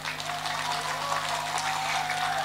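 Steady applause from an audience at an Indonesian religious gathering, a dense patter of clapping hands sustained at moderate loudness, with a faint electrical hum underneath.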